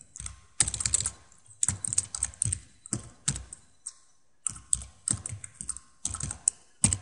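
Bursts of rapid clattering keystrokes on a computer keyboard, close and crisp, come in quick runs separated by short pauses, with no voices.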